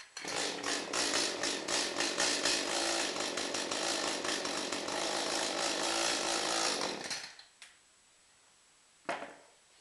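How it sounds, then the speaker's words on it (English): Echo CS-310 chainsaw cutting through a wooden table, a loud ragged buzzing whine for about seven seconds that cuts off abruptly, followed by near silence and one short burst of noise. "I'm gonna try cutting this table with this Echo chainsaw."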